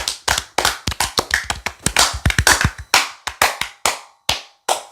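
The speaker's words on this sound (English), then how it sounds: "Can I get a round of applause for that?" A round of applause from a small group, with brisk, uneven hand claps close by that thin out into a few scattered claps toward the end.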